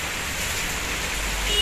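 Heavy monsoon rain pours steadily around a leaking house with a dripping roof, a dense, even hiss that fills the short moment without any break or voice.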